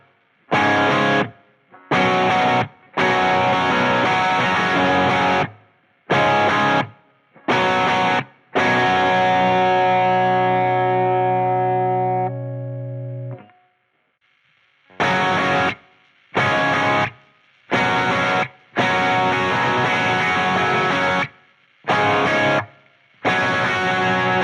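Distorted electric guitar runs through an Axe-FX III Bogner Shiva amp simulation, playing loud, gritty chord stabs in short bursts with gaps between them, one chord ringing out and decaying before the stabs resume.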